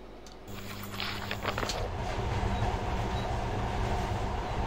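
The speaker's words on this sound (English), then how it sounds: "Nice train ride." Rail car ride in the video game Metro 2033 Redux, a steady low rumble of the moving train that swells after a quiet start and keeps rolling, close and continuous.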